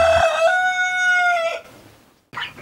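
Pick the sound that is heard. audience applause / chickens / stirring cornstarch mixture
chickens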